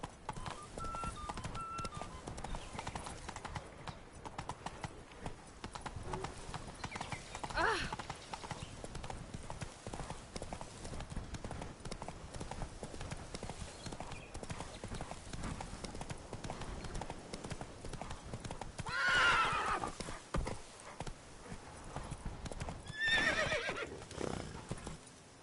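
Roach the horse galloping in The Witcher 3: Blood and Wine, a fast steady clip-clop of hooves with occasional whinnies, heard under a man's spoken lines and game ambience.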